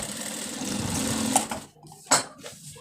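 A sewing machine runs in a steady close whir while stitching foam, stopping briefly near the end with a couple of short follow-up runs.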